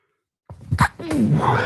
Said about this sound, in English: I was trying to mute that before I sneezed